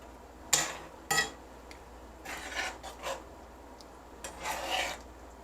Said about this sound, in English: I'm going to give it another little stir.